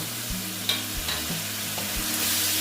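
Grated tomato frying in a pan for a moong dal kalia, a soft steady sizzle with repeated scraping stirs and a light clink, no talking over it.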